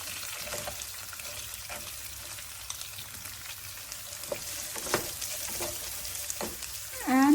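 Onions sauteing in hot oil with basil leaves, giving a steady close crackling sizzle with occasional stir clatters, and a louder scrape at the very end.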